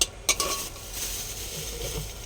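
Whole cardamom, cinnamon and cloves fry in hot oil in a pan with a close, steady sizzle, opening with a couple of sharp clinks of a utensil against the pan before settling into continuous frying.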